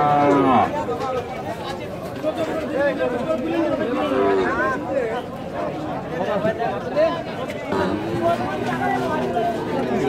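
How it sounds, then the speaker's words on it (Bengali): Calves moo and bellow amid a busy crowd, with people chattering and talking nearby throughout a noisy market scene. "দেখছেন বাচ্চা গরু"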